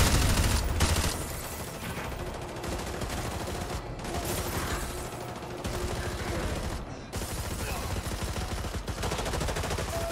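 Dense automatic gunfire from Call of Duty: Modern Warfare 2 Remastered rattles almost continuously, loud and close, with rapid bursts and brief gaps between volleys.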